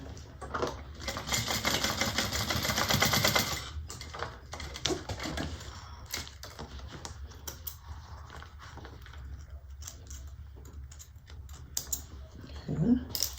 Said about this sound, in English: We're now going to sew it here.